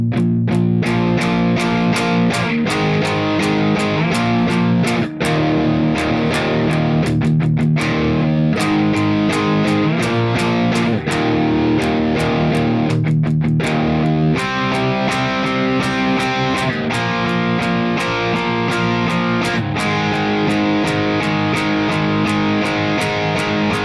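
Distorted electric guitar plays the breakdown from a song, chugging power chords moving down the neck with sharp rhythmic stops and accents, loud and upfront with no voice.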